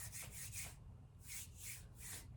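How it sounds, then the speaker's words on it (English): Bare hands rubbing together like sand blocks, a dry scratchy swish repeated in two bursts of three quick strokes with a short pause between, close up and fairly quiet. "It sounds just like it, my hands."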